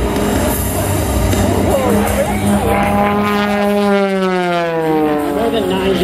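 An MX-2 aerobatic plane dives at an air show, its engine note sweeping steadily downward in pitch like a loud, near whine while an announcer talks over it.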